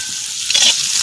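Green beans dropped into a hot pan with capsicum and carrots for village-style veg chowmein, giving a steady close sizzle with a brief burst of louder stirring and frying in the middle.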